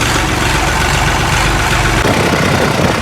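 A Mustang 3630 or New Holland 3630 Super tractor engine idles steadily at close range, a loud continuous low rumble with a faint rhythmic chug, no talk.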